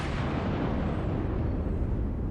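Heavy naval gunfire and shell impacts in World of Warships, a Fuso battleship firing on a Pensacola cruiser; a dense, continuous low rumble of booms and blasts that stays loud throughout with no clear separate shots.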